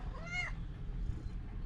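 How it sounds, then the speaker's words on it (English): A pet cat gives a single drawn-out meow near the start, close and clear, followed by quiet room background with low hum. "my cat is gonna make an appearance"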